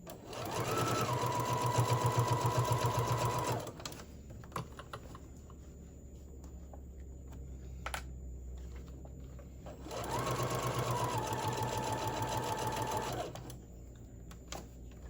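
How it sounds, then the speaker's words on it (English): A home sewing machine stitching a fabric tote bag runs in two steady whirring bursts of about three seconds each, close and fairly loud, separated by a quiet pause with faint handling clicks. "I'm using the down feature on my machine just so when I stop, it doesn't, nothing moves around on me"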